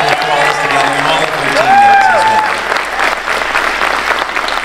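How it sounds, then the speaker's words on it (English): An audience at a company presentation in Orlando gives a sustained round of applause, steady dense clapping lasting several seconds, with a voice speaking over it. "Could you give Dr. Stacy and Brent a nice round of applause for that?"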